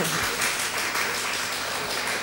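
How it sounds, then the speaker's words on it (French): Studio supporters on a 1970 French word game show applaud in a dense, steady burst of clapping that fills the room, with no talk over it. "Et les supporters applaudissent"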